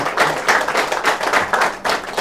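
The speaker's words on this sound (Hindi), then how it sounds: "उनके लिए एक बार जोरदार ताली हो जाए" Hands clap in a quick, steady rhythm for a birthday during an online meditation session, each beat a distinct, fairly close burst repeating about three times a second.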